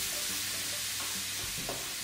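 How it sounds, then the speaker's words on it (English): Nuts and light brown sugar with a little water sizzle and fry in a pan while being stirred, a steady close hiss with scraping stir sounds, no talking. "Sizzle."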